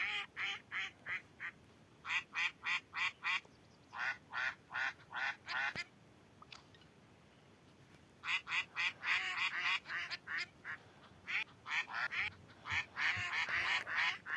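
Ducks quack close by in repeated bursts of rapid, nasal calls, with a short lull in the middle before the quacking picks up again.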